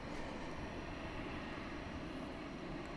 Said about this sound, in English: here's that FAA aircraft again, making another approach